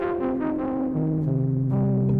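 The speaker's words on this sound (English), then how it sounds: "Let's throw a little reverb on there." A sustained Novation Peak synthesizer chord shifts between notes, its tones blurring into a washy, reverberant tail from a reverb effect.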